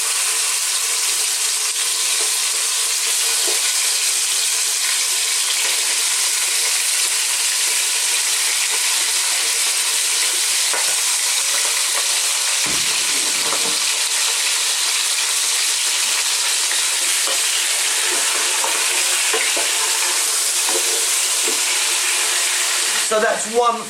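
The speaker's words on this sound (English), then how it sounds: "What we're going to do is start off by frying off our chicken parts" Small chopped pieces of a whole chicken fry in olive oil, giving a loud, continuous hissing sizzle that stays even throughout, with a few faint clinks of utensils.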